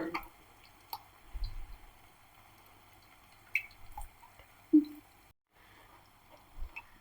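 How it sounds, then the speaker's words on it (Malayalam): Soaked tamarind pulp is squeezed by hand over a sieve and stone pot, giving scattered soft squishes and isolated drips with quiet gaps between them, close and faint. "ഒരു പ്രാവശ്യം കൂടി പിഴിഞ്ഞെടുക്കാം നമുക്ക്"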